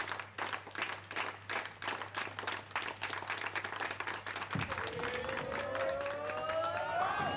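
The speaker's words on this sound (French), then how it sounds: "sous les applaudissements du public d'Inané" Steady applause from a bowling crowd at the 2019 QubicaAMF BPC televised women's final, dense clapping throughout before a ball rolls down the lane and strikes the pins near the end.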